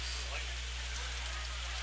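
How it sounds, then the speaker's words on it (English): Heavy rain pours down on a baseball park during a game stoppage, a steady faint hiss of falling water with a low constant hum beneath and no clear voices. "We've got rain pouring down here at First Bank Park"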